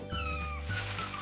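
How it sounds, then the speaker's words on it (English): A young blue-coated kitten meows several times in close succession, with rising and falling cries sounding near and clear, and no talking over it. "This is Kamina, my new little kitty cat"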